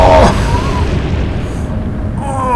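In the naval game Atlantic Fleet, a battleship takes a shell hit, a deep booming impact that rolls into a loud sustained rumble.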